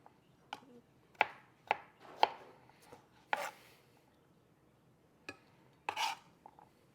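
A knife chops cucumber into small cubes on a board, with sharp, close, irregular knocks, roughly a dozen spaced over several seconds, and no talking.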